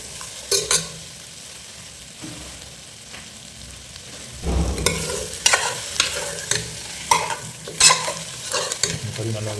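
Boiled beef stirred and fried in onion gravy, a low sizzle with scattered clattering spatula scrapes that turn louder and more frequent midway, close by with no talk.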